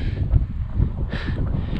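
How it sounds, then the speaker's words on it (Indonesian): Strong, steady wind gusting on the Mount Abang hiking trail, a loud continuous low roar with rumbling buffeting against the microphone. "Angin udah mulai besar lagi dan"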